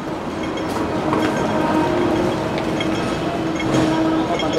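A Hong Kong tram rattles along its tracks on the way to a waterfront pier, steady clattering and rumbling heard from on board, with faint wheel squeals and no talk.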